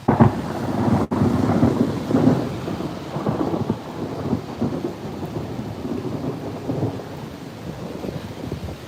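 Thunder rumbles low and long through a thunderstorm while rain falls steadily, the deep rolling booms swelling and fading over several seconds close by.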